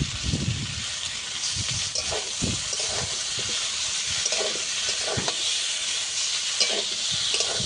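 Ground spice paste being sautéed and stirred in a pan for a fish and Malabar spinach curry, a steady loud sizzle with repeated scraping stirs throughout, no talking.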